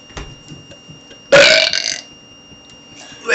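A child lets out a loud, rasping burp lasting about half a second, close to the mic, set against a quiet room with brief faint noises before and after.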